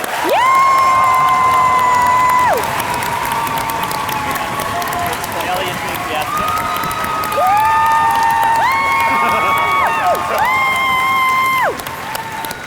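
A large evening audience at a live public debate cheers, whoops and applauds loudly and steadily to vote for the affirmative team, with shrill shouts and whistles rising above the dense roar of clapping.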